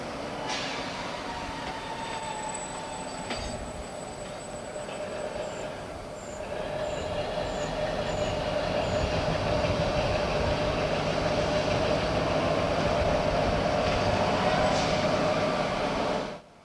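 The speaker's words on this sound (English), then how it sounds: "the loco decouples and moves forward to the single track section beyond the points" A small OO gauge model locomotive hums and rattles along its track at a steady pace, with a faint whine and occasional clicks.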